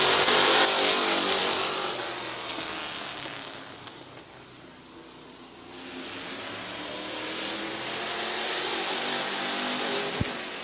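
Race cars roar past at Midvale Speedway in a pack, their engines swelling and fading as they go by and then building again, steady and fairly loud.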